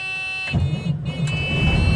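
Truck engine cranked with the key during a pre-trip check, a dashboard warning buzz and tones giving way to a low rumbling start-up that settles into a steady idle, close and fairly loud.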